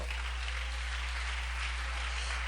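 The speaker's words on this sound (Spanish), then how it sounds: "dale un aplauso a Cristo." Church congregation applauding during a sermon, a steady dense wash of clapping that fills the space without gaps, moderately loud with a low hum underneath.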